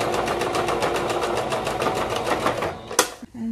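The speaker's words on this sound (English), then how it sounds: "It just top stitches the seam down, the neckband seam" A sewing machine runs steadily, top stitching a neckband seam on a toddler maxi dress, its rapid needle chatter continuous and close for about three seconds before stopping with a sharp click and a brief quieter hum.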